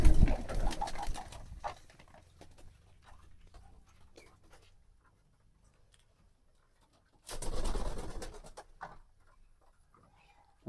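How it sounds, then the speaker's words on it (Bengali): Pigeons feed on freshly given grain in their coop on a rainy day, with soft coos and light rustling and pecking, louder at the start and in a brief burst later, quiet in between. "দেখেন কবুতরগুলো খুব সুন্দরভাবে খাবার খাইতে আছে"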